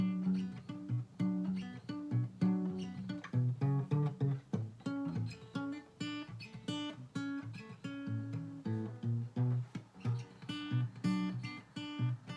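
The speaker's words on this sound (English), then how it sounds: "I like to palm mute with my right hand." Palm-muted guitar played with the right hand resting on the strings, a steady run of short, damped chugging notes and chords over about twelve seconds, close and fairly loud with no talking.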